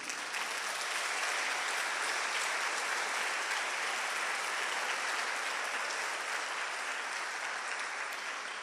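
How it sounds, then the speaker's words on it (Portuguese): A church congregation breaks into steady, full applause during a sermon. The clapping is even and continuous throughout, heard at a moderate distance in a large room. "Se é verdade isso, dá um aplauso bem lindo."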